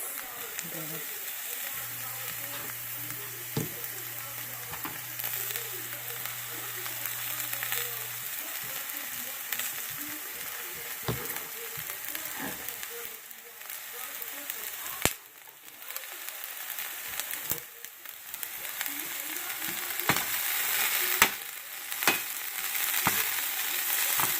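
Leeks fry in a pan with garlic for a vegan keto dish, a continuous close sizzle with stirring scrapes and occasional clinks, while a voice talks over parts of it.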